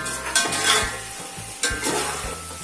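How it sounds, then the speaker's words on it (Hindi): Chopped tomatoes hit fried chicken in a pot for chicken pulao, giving a steady close sizzle while a metal spoon stirs and scrapes the pot in a few sharp bursts, with no voices. "अब इसमें मैं 2 कटे हुए टमाटर शामिल कर रही हूँ और इसको भूनते हैं"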